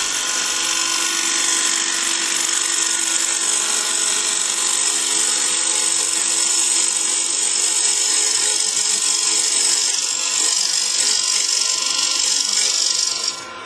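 Bowl gouge cutting a hollow-form wood piece on a lathe, a continuous loud, bright hiss of cutting with a steady whine throughout, alone with no talk.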